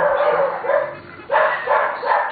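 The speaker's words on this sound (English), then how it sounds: "Stupid dogs." Dogs bark in a quick series of loud, close yaps and yips, about five sharp barks in two bursts.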